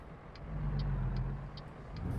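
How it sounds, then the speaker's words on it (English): Truck engine in American Truck Simulator, a steady low diesel drone with faint regular ticking clicks on top, brief and fairly quiet. "let me go ahead and downshift here"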